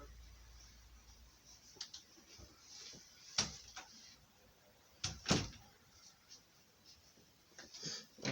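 Front door and closet door in a house opening and closing, with two sharp knocking bangs a couple of seconds apart and lighter clicks and rattles around them, fairly close in a quiet room.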